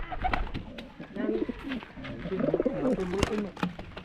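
Fighting pigeons at a street pigeon fight in Pangasinan give repeated throaty coos in uneven bursts, fairly close, mixed with people talking over them.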